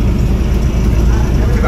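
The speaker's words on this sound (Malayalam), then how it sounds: "ബസ്സിന്റെ സൗണ്ട് ഒക്കെ എങ്ങനെയുണ്ട്?" Steady engine drone of an Eicher solar-powered air-conditioned bus, heard from inside as a loud continuous low rumble with a faint high whine.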